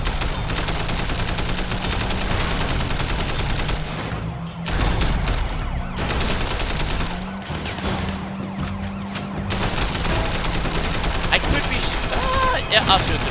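Gunfire in the video game Sleeping Dogs, dense rapid volleys rattling almost continuously over a wailing police siren, loud and close, with a short lull in the middle.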